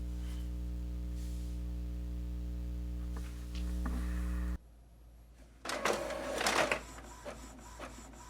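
An Epson EcoTank ET-2800 printer prints a test page, starting with a steady mechanical hum and whir. It then stops abruptly, and a few quieter clicks and paper-feed rustles follow.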